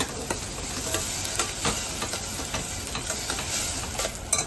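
Ground onion and tomato paste fries in hot oil, giving a constant crackling sizzle with scattered pops and stirring scrapes, close and steady with no voices.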